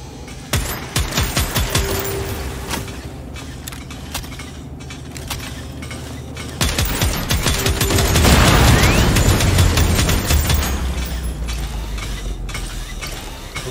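Rapid automatic gunfire in the first-person shooter 41 Hours, with bursts of mechanical clatter and rattling shots over a low game-soundtrack drone, swelling louder and denser toward the end.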